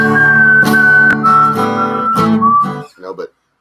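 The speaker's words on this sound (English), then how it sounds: "I thought I'd try to whistle on that one" A person whistles a song melody with steady, held notes that step up and down. It is loud and close and ends abruptly after about three seconds.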